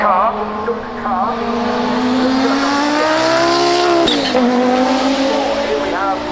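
Audi 90 IMSA GTO race car with a five-cylinder turbo engine at Goodwood, a loud, close, sustained rising engine note that climbs steadily, breaks off sharply on a gear change, then pulls again, with a faint tire squeal.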